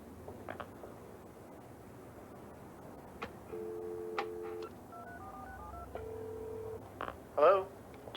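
A telephone number is dialed on a 1990s phone, a run of short touch-tone beeps in uneven rhythm, close and clear, followed by a brief rustle.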